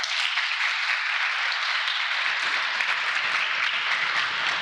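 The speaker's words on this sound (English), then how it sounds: "Please give them a round of applause." A steady wash of audience applause fills a town hall meeting, even and sustained from start to finish with no talking.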